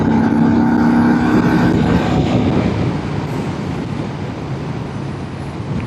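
A 2023 Harley-Davidson Street Bob accelerates hard to overtake, its engine a loud, steady roar mixed with heavy wind rush that eases slightly in the second half, with no talking.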